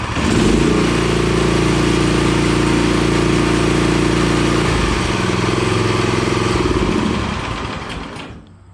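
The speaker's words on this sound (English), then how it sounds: "There's idle. Not too bad. Rev it right up." A Power Ease small gas engine runs loud and steady, its low rumble rising from idle before the sound cuts off and fades near the end.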